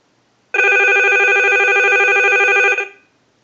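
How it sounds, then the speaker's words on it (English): A Mickey Mouse telephone's bell rings once in a single steady electronic burst about two seconds long, loud and close, with silence before and after. "we'll send a ring cycle, so we'll start that"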